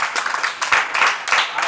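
A church congregation claps in rhythmic bursts during a sermon, a dense, fairly loud patter with voices faintly mixed in.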